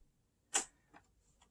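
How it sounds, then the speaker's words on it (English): Three small mechanical clicks from the record-size sensor flippers of a Technics SL-D35 turntable in quiet, one sharp and loud followed by two fainter ticks spaced about half a second apart. "So that's what that clicking noise you hear as it comes around is."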